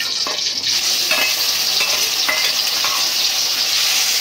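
Onion paste frying in hot oil left over from frying fish, with a steady loud sizzle and several scraping stirs of a spatula in the pan.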